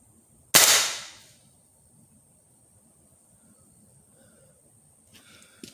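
.177 air rifle, a Crosman or Gamo, fires a pellet into a board with a single sharp, loud crack that decays quickly, followed by near silence and faint rustling at the end.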